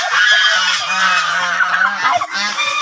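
A goose honks loudly and close up in a repeated, nasal series of calls, raucous and continuous, with no talking.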